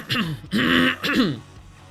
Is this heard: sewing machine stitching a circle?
no